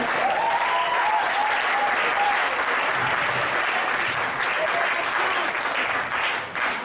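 A church congregation breaks into loud, sustained applause to acclaim the Lord, a dense wash of clapping with a brief voice heard early on, holding steady before thinning slightly at the very end.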